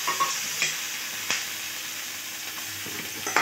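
Chopped tomatoes fry in a pan for chapati noodles, giving a steady bright sizzle with a few soft stirring scrapes and clicks, close and moderately quiet, with no talking.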